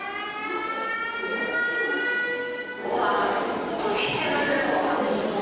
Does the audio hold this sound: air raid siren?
yes